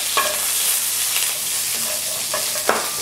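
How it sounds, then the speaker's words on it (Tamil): Mustard seeds and urad dal splutter in hot oil for bisibelabath, a dense close hiss dotted with sharp popping crackles, with no talk. "கடுகு நல்லா பொரியுதுங்க"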